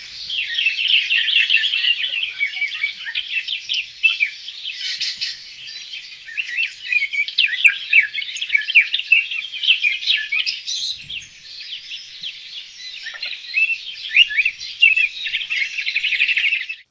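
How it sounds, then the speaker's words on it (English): Birds sing in a busy, continuous chorus of high chirps and tweets, moderately close and fairly loud, with overlapping calls and short trills throughout and no other sounds. "a bird's song"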